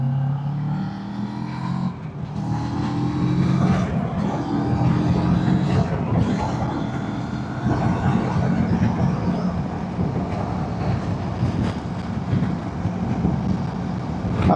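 Engine and road roar from a 2026 CF Moto 700MT motorcycle rolling on in third gear from about 30 mph, a steady loud drone with rising engine tone and wind noise and no speech.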